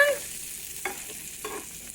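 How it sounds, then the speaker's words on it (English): Onions frying in a pan and being stirred, with a few distinct scraping stirs over a steady soft sizzle, close and alone. "onions are cooking"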